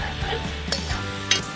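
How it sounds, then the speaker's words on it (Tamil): Garlic frying for Malaysian-style Hokkien mee, sizzling steadily in a pan while a spatula stirs and scrapes it in a few distinct strokes, close and moderately loud with no talking. "இப்போ பூண்டு போடுவோம்."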